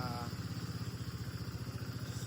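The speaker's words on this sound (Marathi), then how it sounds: "किक स्टार्टच करतो." A motorcycle engine just started by kick, running with a steady, rapid thumping rhythm at close range, loud and alone.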